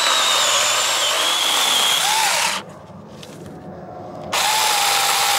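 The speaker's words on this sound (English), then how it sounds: "the stance of someone who knows how to use a 6-inch electric portable chainsaw" A small 6-inch electric portable chainsaw cutting wood, a loud high whining motor that drops briefly to a lower idle hum before revving back up, close by with no voices.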